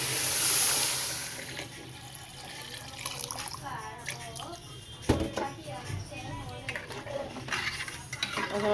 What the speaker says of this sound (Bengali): এখন দিয়ে দেব পরিমাণ মতো পানি।